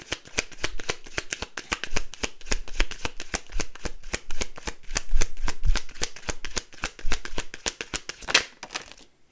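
Tarot cards shuffled by hand in a long, steady run of crisp riffling clicks, close and fairly loud, ending with a sharper slap of the deck near the end, with no talking over it.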